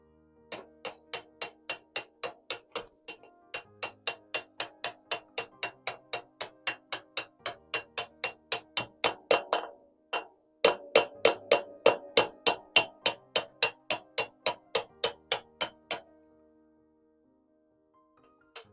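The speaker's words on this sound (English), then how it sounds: "I better go and find a hammer." A hammer drives an aluminium spacer into a Praga B2 aero engine part in a long run of sharp, regular metallic blows, close and loud, pausing briefly midway before a final quicker series.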